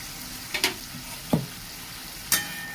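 Soybean curry with water and Kashmiri chili powder is stirred in a pan over high flame, giving three distinct scraping strokes against a steady, close sizzle.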